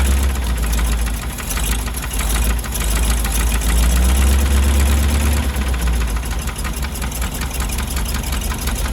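The 366 big block engine of a 1977 GMC 6500 truck runs rough with a loud, heavy low rumble and uneven knocking, holding steady close up for the whole stretch.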